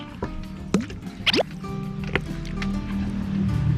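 Fish sauce is poured into fresh rice-field crab chili paste, giving a few quick drips and small liquid splashes close by over a low background hum.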